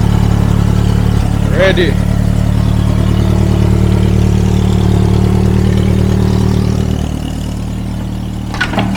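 A Lada fitted with a turbocharged 1NZ-FE engine runs with a loud, steady low rumble throughout that eases slightly near the end, while someone speaks briefly over it.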